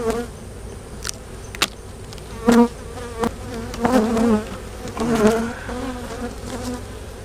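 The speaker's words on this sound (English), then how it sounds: "Bees up top here." Honey bees buzz steadily at close range at an over-wintered hive, with individual bees droning louder as they pass near, over a constant hum from the hive.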